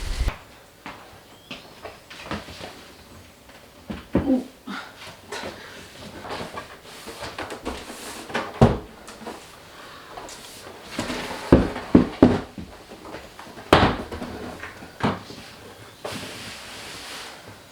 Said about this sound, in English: the wind is blowing the door open